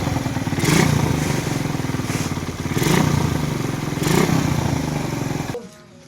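A used motorcycle with full maintenance, for sale at about 95,000, idles with a steady throb and revs up in three surges before cutting off abruptly near the end.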